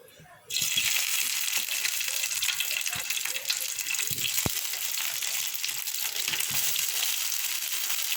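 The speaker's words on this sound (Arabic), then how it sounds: "السجق اتعمل اهو يا بنات، هحمره بقى في الزيت معاكم." Sausage frying in oil in a home kitchen makes a steady, loud broadband sizzle that starts abruptly and then crackles on without a break, with a few faint clicks and pops.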